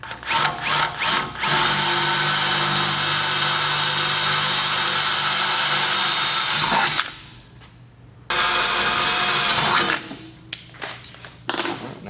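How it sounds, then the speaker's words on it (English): Power drill boring holes with progressively larger stepped-up bits up to half an inch while installing a Ryder rack bolt, loud continuous whine with a few short bursts at the start and brief pauses midway and near the end. "And as you go, you'll step up your drill bits until you reach 1/2 inch."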